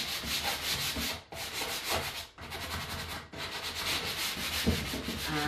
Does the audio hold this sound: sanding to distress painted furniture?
yes